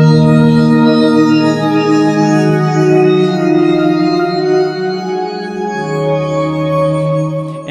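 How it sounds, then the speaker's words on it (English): A lush u-he Zebra 2 pad preset run through a filter, split dual algorithm and bit crusher sample rate reduction plays as sustained harmonic chords, loud and continuous with one chord change near the end and no talking. "I started playing around with this bit crusher filter, basically. It's a sample rate reduction."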